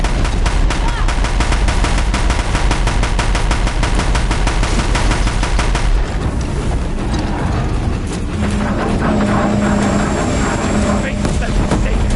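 Dense rapid gunfire and machine-gun bursts rattle through a battle in the video game Horizon Zero Dawn. The fire is loud and continuous at first, then thins out under rumbling and shouted voices.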